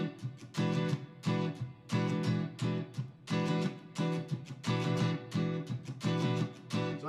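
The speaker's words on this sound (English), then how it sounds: "I did a triple hit on beat 1 and a double hit on beat 3" Guitar strumming in a groove pattern with a triple hit on beat one and a double hit on beat three, then single strums, forms rhythmic clusters of chords ringing over several bars, clear and close with no voices.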